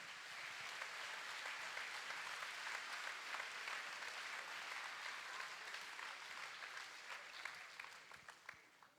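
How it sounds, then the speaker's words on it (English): A crowd at a school homecoming skit night claps steadily, a dense patter of many hands heard at a distance, fairly faint, holding evenly before thinning out near the end. "I'd ask that you give them a round of applause"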